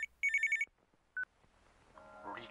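A telephone rings in the horror game Feed Me Billy with two short bursts of a bright electronic ring. Quiet game noises and a faint rising tone follow.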